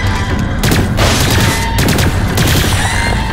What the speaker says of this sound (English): pulse rounds work pretty good against these guys